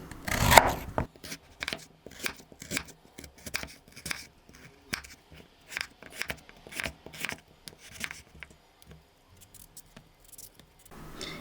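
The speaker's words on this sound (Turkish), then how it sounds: "Patatesimizi yarım santim kalınlığında ince ince doğrayalım." A knife slices potatoes into half-centimetre slices in a quick, steady series of crisp cuts against a board, close up, with no talking.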